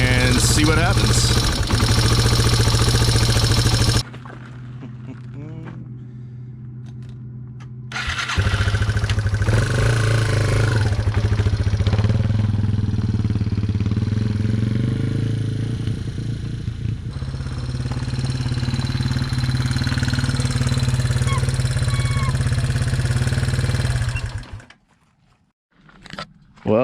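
Yamaha TW200 motorcycle ridden around a campground, engine loud and steady with throttle swells and clattery mechanical noise, dropping away briefly near the start and fading out at the end; a voice speaks over it.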